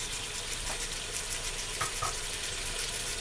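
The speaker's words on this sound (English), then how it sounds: "Let that start to sizzle a little bit." Black pepper sizzles steadily in a pan while pepper steak is cooked, a soft constant crackle and hiss with a couple of faint utensil clinks.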